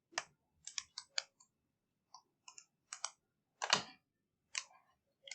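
A computer mouse clicking in quick, sharp, close taps, scattered singly and in short pairs across a quiet room.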